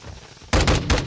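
Gunfire in a first-person shooter's search-and-destroy match: after half a second of quiet, a loud burst of rapid shots hits, several closely spaced bangs in quick succession.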